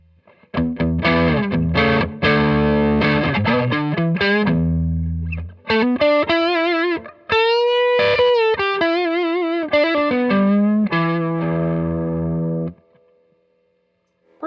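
A Grote Les Paul Special style electric guitar on its neck pickup plays chords and single-note phrases with a clean-to-lightly-effected tone, loud and close, with short pauses between strummed runs and sustained notes.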